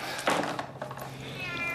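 Cat meowing in a Monopoly board game advert, one clear, close meow near the start followed by softer thumps and a faint tonal tail, with a light voice-like murmur underneath.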